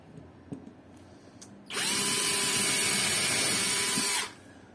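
A power drill whines steadily for about two and a half seconds while pre-drilling a wooden door frame, starting and stopping abruptly after faint handling taps in a quiet room.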